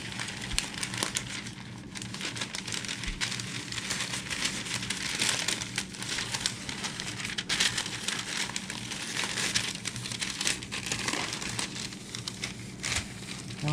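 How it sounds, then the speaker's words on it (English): Parchment paper is handled and smoothed flat over a tote bag, with continuous close crinkling and rustling throughout. "I'm going to put a piece of parchment paper"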